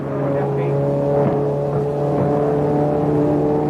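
The trouble-plagued Chaparral number 12 race car sits running in the pits during the 1966 12 Hours of Sebring, its engine holding a steady, tonal drone with faint voices underneath.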